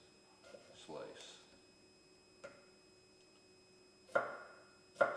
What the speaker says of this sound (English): slice down, slice down, slice down, slice down